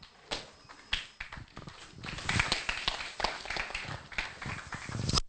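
An audience claps for Rob Gibson at a talk, starting with a few scattered claps and then building into dense, steady applause in a room.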